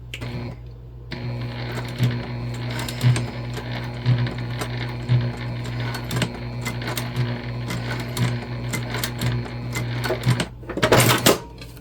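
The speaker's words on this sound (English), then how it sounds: "we're gonna come up here and just do a little stitch up here also, just to secure this section in place" A sewing machine runs steadily stitching a shoulder bag, a loud, close whirring hum with a regular needle beat, ending with a brief rattle as it stops.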